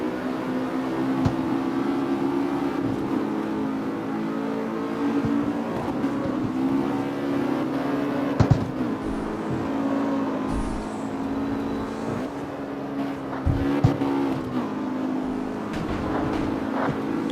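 Car engine in CarX Street with a throaty note, a steady loud drone that rises and falls slightly in pitch, with a couple of brief knocks, sustained throughout without talking.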